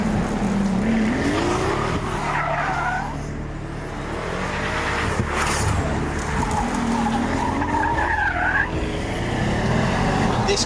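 A Pagani Huayra supercar, 720 bhp, is driven hard, its engine roaring while the tires squeal and skid repeatedly in loud, sustained bursts close by.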